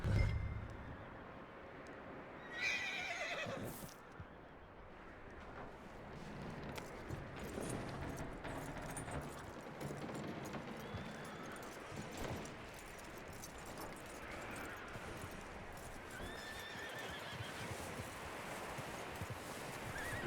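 Horse hooves clopping in the Red Dead Redemption II video game, soft steady footfalls with a brief louder burst early on, set against quiet outdoor ambience and rustling.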